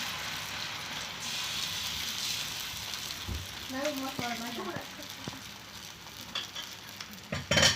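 Dosa batter poured thick onto an oiled hot tava sizzles softly and steadily, with faint scraping and clinks near the end, fairly quiet overall.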